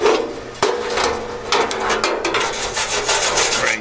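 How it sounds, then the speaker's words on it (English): A wire brush is scrubbed by hand over a welded metal panel on a Porsche 550 dash subassembly, making repeated close, harsh rasping strokes in an uneven rhythm with a knock or two. "Wire brush this a little bit."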